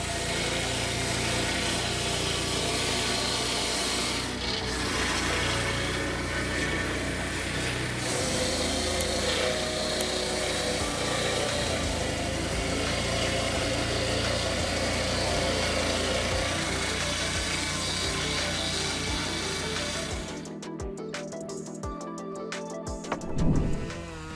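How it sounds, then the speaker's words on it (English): A Husqvarna 3120 XP chainsaw cutting through a log runs loud and steady, with a continuous high engine whine that holds for about twenty seconds before cutting off, leaving quieter scattered knocks. "The resounding sound of the Husqvarna 3120 XP chain saw makes us admire the power it brings."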